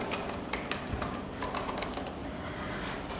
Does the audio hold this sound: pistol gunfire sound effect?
no